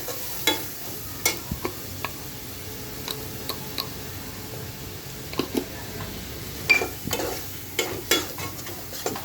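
Pumpkin with turmeric, red chili and coriander powder is sautéed in a pan, a soft sizzle running under repeated sharp scrapes and taps of a spoon stirring at irregular intervals.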